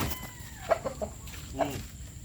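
A chicken gives a few soft, short clucks while being fed rice, faint and close against a low steady background hum.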